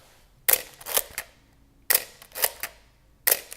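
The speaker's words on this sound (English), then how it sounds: "let's hear that shutter again for you guys" A Canon F1 35mm film camera's mechanical shutter fires three times, each a sharp, close, loud mechanical clack with a brief follow-up clatter, separated by pauses of over a second.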